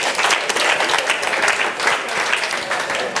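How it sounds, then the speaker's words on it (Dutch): Steady audience applause for a house band on a Dutch political talk show, dense and continuous with no pauses, loud and fairly close throughout. "Geef ze een applaus, alsjeblieft."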